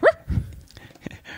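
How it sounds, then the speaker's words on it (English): A household dog barks and yips close by in short, sharp bursts, a few quick barks mixed with a whimpery note over about a second and a half. "our dog's making too much noise"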